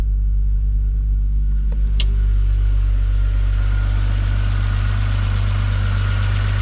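A Toyota Supra Mk3 with its 7M engine idles steadily after a cylinder head repair, a smooth, quiet, continuous low rumble close by with two brief faint clicks early on.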